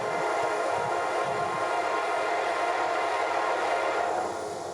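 Freight train led by an SD70 locomotive hauling a short string of containers on a rail line, a steady loud rumble with a sustained tonal hum throughout, easing slightly toward the end.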